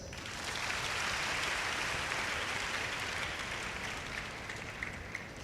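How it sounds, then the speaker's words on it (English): Students at an orientation programme clapping for themselves, a broad burst of applause that swells in quickly and holds steady before thinning slightly toward the end. "Now clap for yourselves"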